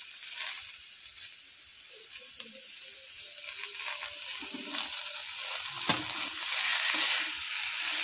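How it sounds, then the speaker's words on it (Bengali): A spoon scrapes and stirs potato with chopped green chillies and coriander in a pan over low flame, soft irregular scraping with a faint sizzle, no talking. "এবার আমি এটাকে ভালো করে আলুর সাথে মিশিয়ে নেব"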